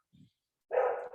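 An English bulldog gives a short low woof followed by a louder, longer bark indoors, two separate bursts close by, with no talking.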